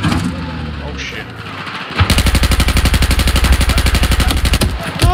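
Rapid automatic gunfire in Battlefield 4, a dense, loud burst of evenly spaced shots running for about three seconds after a quieter stretch with a voice and game noise.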